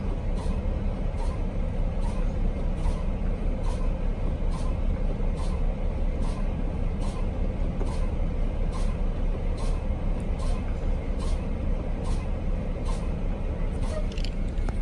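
Truck air brake system being pumped down toward low pressure: a rhythmic series of sharp hissing pulses repeats roughly every second over a steady engine idle, with faint talk in the background.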